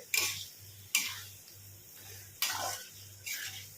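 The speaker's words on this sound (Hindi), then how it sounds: "कटहल को मसाले के साथ भूनना है। मीडियम फ्लेम पे ही 10 से 15 मिनट तक भूनेंगे।" Jackfruit being roasted with spices in a pan over a medium flame, stirred in several scraping strokes over a steady low sizzle, with a faint ticking pulse underneath and no talking.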